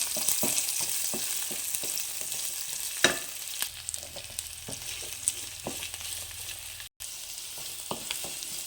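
Wild field mushrooms frying in oil with cumin seeds for a village-style curry: a steady, close sizzling hiss runs throughout, dotted with sharp crackles and pops and one brief dropout near the end.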